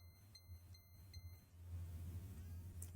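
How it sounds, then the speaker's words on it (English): A Logik DAB radio gives four quick, evenly spaced electronic beeps, moderately loud against a low hum, and then falls silent. "You don't need to beep at us."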